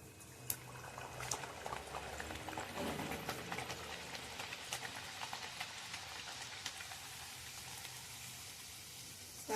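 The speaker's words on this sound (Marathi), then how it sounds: "पिठाचं हे टाकून बघूया तेल कडले का बघा" Sweet potato gharya dough dropped into hot oil on medium heat sizzles and bubbles steadily, a soft dense crackle with scattered pops, fairly faint and with no talking.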